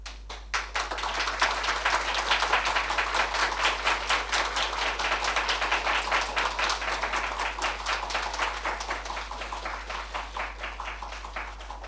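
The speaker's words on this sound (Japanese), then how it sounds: "皆様拍手でお迎えください。" Steady clapping from the audience at a press conference as a motorcycle racer is welcomed back, many hands in a fast, even patter that continues for about twelve seconds without talk.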